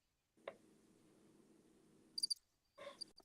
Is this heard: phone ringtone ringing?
no